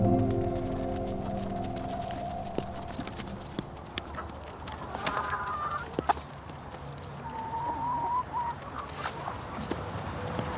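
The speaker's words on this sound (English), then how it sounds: "Oh, that's a chicken." A chicken clucks on a farm with paddocks of animals, its short calls rising now and then over hoof-like clip-clops and open outdoor ambience.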